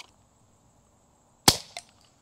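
A CO2-powered 3D-printed Nerf shotgun pistol fires a dart with a single sharp, loud pop, close by. A faint secondary impact follows, with near silence before and after.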